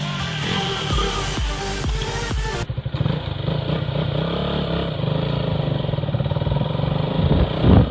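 A KTM Duke 200 single-cylinder motorcycle engine idles with a clattery, pulsing beat, then revs up into a louder, busier drone that swells toward the end.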